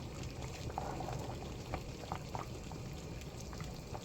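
Potatoes boiling in a pot for mashed potatoes, a soft continuous bubbling with occasional small pops, faint and steady with no voices.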